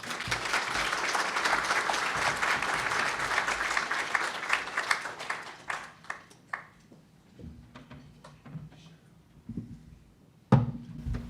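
An audience applauds steadily to welcome Mr. Tom Byrne to the stage at a Korea Society event in Atlanta, the dense clapping filling the room for about six seconds before thinning into scattered claps and quiet.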